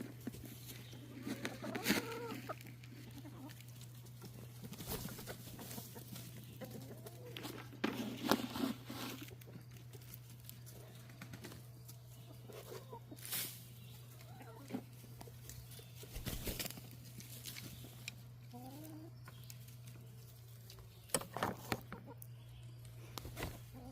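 Chickens and chicks clucking softly while being fed, faint scattered calls and pecking patter over a constant low hum.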